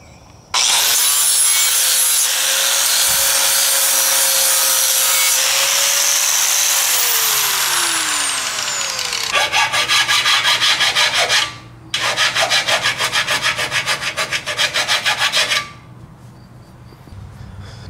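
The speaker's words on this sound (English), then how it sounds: "deburr this edge all the way around, inside and outside. You don't want any sharp edges on neither one of these tubes. So we'll go ahead and grind all those edges next." A grinder deburrs the cut edges of a steel trailer tongue tube, a loud, steady abrasive rasp running for about nine seconds, then two shorter grinding passes with brief pauses, close and without talk.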